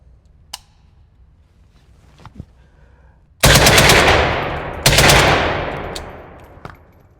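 Loud bursts of automatic fire from an AK-20 rifle at an outdoor shooting range, two sustained strings of rapid shots, each with a decaying echo, followed by a few quieter single reports.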